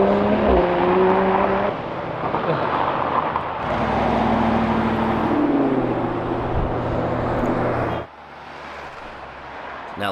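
Cars drive along city streets, with close engines humming and revving through gear changes in a loud, continuous drone that shifts pitch, then drops away suddenly near the end.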